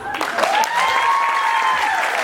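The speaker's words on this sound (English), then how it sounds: "One more big round of applause for Jonathan and Courtney." A wedding reception crowd gives Jonathan and Courtney a warm round of applause, a dense wash of steady clapping with a few cheers rising over it.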